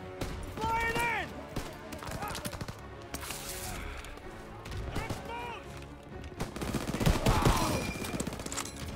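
Rapid gunfire and clattering action from Call of Duty: WWII, repeated shots and rifle bursts mixed with game voices shouting over the fight, moderately loud and continuous.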